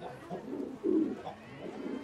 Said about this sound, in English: you can hear them cooing